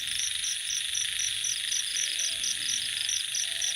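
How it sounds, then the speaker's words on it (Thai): Frogs croak in rhythmic pulses alongside a dense, steady chorus of insects outdoors in nature, with no talking. "เสียงกบ"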